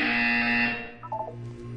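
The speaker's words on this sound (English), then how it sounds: "When you hear the buzzer, look up at the ceiling." A loud, flat electronic buzzer in Portal 2 drones for most of a second, then cuts off, followed by a few short chirping beeps over a low hum.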